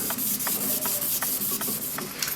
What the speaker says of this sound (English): slowly rub the spring backwards and forwards to remove the dirt and the dust and the grime